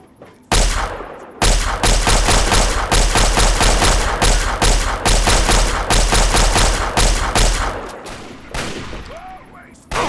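Loud, rapid gunfire from a gun in Fallout 3 hammers on for about eight seconds after a short gap near the start, then tails off.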